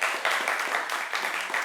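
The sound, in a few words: audience applause voting for a family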